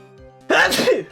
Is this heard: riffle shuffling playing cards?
no